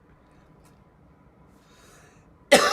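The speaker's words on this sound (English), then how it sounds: "There's the coughing." A single sharp cough bursts out after a couple of seconds of near silence, close and loud.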